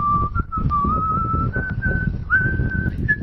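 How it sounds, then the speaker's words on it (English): AI-generated whistling over blowing wind: a single clear whistled tune wavers and slides in pitch across several phrases, with a low, rough wind rush steady underneath throughout. "whistling with wind blowing"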